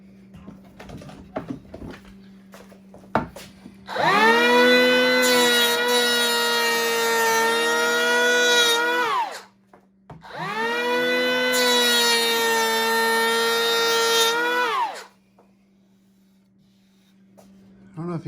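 A DeWalt power tool runs in two sustained bursts of about five seconds each while smoothing the edges of a wooden charcuterie board on cross grain, loud and whining, with quiet gaps and a low steady hum between.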